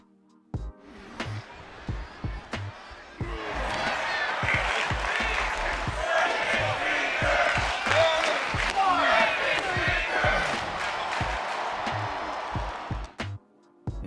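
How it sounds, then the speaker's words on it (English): In the wrestling video game WWE 2K24, an arena crowd roars and chants rhythmically during an arm wrench finger snap move, the swelling noise mixed with thuds and impacts and a commentator-like voice over it. "we've now got a break his fingers chant when doing the arm wrench finger snap"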